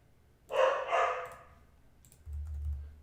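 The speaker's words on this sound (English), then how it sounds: "Sorry again about the dogs." Dogs bark in the background, a quick pair of sharp barks near the start and a lower, muffled bark later, fairly faint against quiet room tone with no talk.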